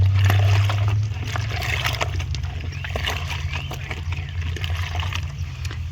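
Rinsing water runs and trickles steadily over naturally dyed cloth, a continuous close liquid wash with small splashes, slightly louder in the first second and then even.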